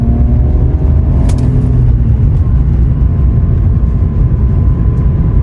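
A BMW car's engine drones loudly and steadily while driving, a dense continuous roar with faint shifting rev tones and no talking.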